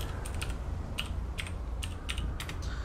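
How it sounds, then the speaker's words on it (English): One-handed typing on a computer keyboard during a GTA 5 LSPDFR police session, a sparse run of quick, close key clicks in small clusters over a low steady background hum. "so I'm typing with one hand."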